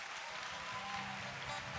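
A concert audience claps for two guest performers, a brief, fairly quiet burst of dense, even applause that holds steady.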